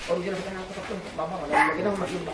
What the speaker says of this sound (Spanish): Este pequeño zorro del desierto, agonizante, es el último, el superviviente de los 9 ejemplares de la jaula. Ladra sin fuerza